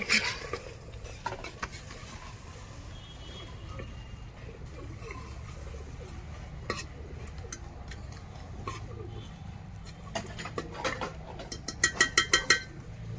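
Raw mutton and masala stirred and roasted in a pot on a wood-fired stove, with soft scraping and sizzling patter under scattered metallic clinks of a spoon against the pot, growing into a quick run of sharp taps near the end.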